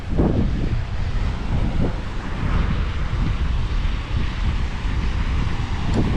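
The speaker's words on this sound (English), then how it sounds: "Let's go look at some corally beach and some big waves" Strong wind buffets the microphone at a coral beach at South Point, Hawaii, a heavy low rumble with gusting swells while big surf washes beneath it, with no talking.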